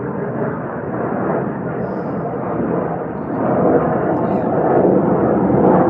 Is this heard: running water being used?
no